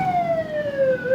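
A wailing siren sweeps slowly downward in pitch over a low rumble of road traffic, sounding close and steady.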